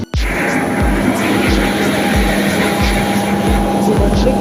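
A SpiceJet passenger plane rolls on the runway after landing in Goa, its engines roaring steadily and loudly with a rhythmic thumping from the wheels passing over runway joints, heard from inside the cabin.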